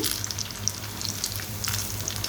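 Flattened noodle fritters fry in hot oil, giving a strong, continuous crackling sizzle with small pops scattered throughout.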